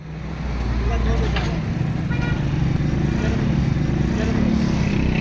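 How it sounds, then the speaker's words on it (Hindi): Road traffic in the Raja Bazaar Ganj Mandi market area of Rawalpindi, a steady dense rumble of cars and motorcycles passing close by, with someone talking over the continuous engine noise. "ट्रैफिक आप ये देख लें, राजा बाज़ार गंज मंडी में"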